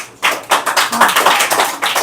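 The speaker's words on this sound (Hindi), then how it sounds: "इसके लिए तो ताली बजाओ भाई।" Young first-class students at a school prize ceremony clap their hands in a quick run of roughly a dozen sharp, loud claps spread over about two seconds, close by and with no talking.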